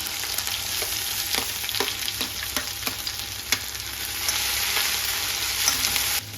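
Mutton for thokku sautéing in a pan with a pounded garlic, ginger, fennel and clove spice mix, a constant loud sizzle broken by frequent scraping stirs, no voices.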